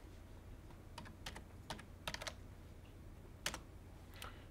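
Typing on a computer keyboard while entering an IP address into a web browser, with sparse clicking keystrokes in short irregular bursts over a low steady room hum.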